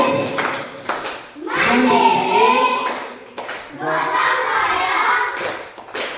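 Children in a classroom perform the Tepuk TPK clapping chant, sharp rhythmic hand claps in short bursts alternating with group chanting voices, fairly close and loud.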